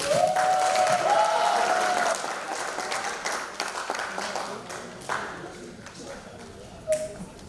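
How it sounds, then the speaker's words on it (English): An audience at an oratory competition applauds after a performance, a loud burst of clapping that fades into scattered claps, with a voice briefly heard at the start. "Let's give them a round of applause."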